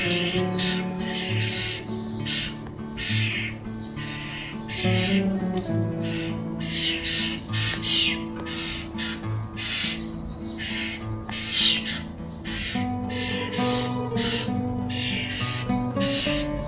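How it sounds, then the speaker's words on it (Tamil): Sparrows in a cherry tree in a London home garden chirp in repeated short bursts, busy and fairly near, alongside lower background sounds. "பின்னாடியே உங்களுக்கு நிறைய குருவிகளோட சத்தம் கேட்டுகிட்டே தான் இருக்கும்."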